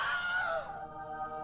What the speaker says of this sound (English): It's the Wilhelm scream.